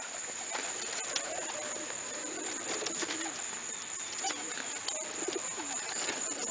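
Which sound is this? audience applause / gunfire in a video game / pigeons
pigeons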